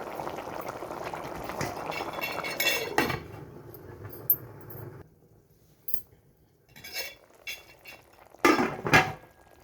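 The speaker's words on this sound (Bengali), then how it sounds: "এখন কাঁচামরিচ দিয়ে দিচ্ছি আমি।" Green chillies tossed into beef bhuna cooking in a pan, a bubbling sizzle with clinks of a utensil against the pan and a couple of louder stirring scrapes near the end, no talking.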